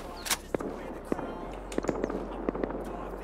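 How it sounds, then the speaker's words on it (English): Rifle fire from an AK in the survival game Rust crackles as sharp, scattered distant shots, some in quick pairs, over a low steady hum. "I'm going to these AK shots"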